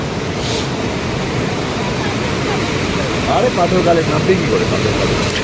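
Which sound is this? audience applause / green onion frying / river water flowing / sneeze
river water flowing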